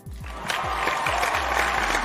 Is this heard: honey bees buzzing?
no